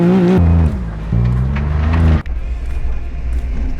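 A cheap $400 Toyota Prius races off-road in a Gambler 500 event, its engine loud and close, droning and rising in pitch in surges, then dropping into rougher rumbling noise.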